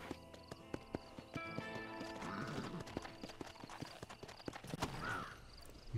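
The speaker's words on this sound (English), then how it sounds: "Come on, horsey, go a bit closer, please. And faster, if you would." Horse hooves clip-clop in a steady galloping rhythm in the Red Dead Redemption video game, with a brief whinny partway through and other game sounds layered underneath, close and moderately loud.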